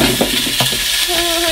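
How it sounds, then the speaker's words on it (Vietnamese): Eggplant stir-frying in hot oil in a pan, a steady close sizzle with light stirring scrapes throughout, with no talk. "Con vừa cho dầu vào, xong rồi con sẽ cho cá tím vào để xào ạ."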